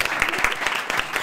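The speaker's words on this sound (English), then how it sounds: "Can't just give one person an applause." A student election debate audience claps briefly, a steady patter of many hands filling the room at close range.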